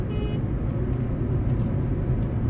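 A Hyundai i20 diesel car cruising in fifth gear, heard from inside as a steady, fairly quiet engine and road drone with no talk.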